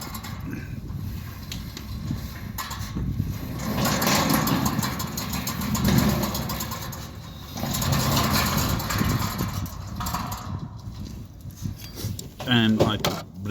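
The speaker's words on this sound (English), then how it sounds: "if I close the gate quickly" Centurion D5 Evo smart gate motor driving a gate closed quickly during installation, a steady mid-pitched motor drone with mechanical rattle that rises and falls over several seconds, with a person talking over it.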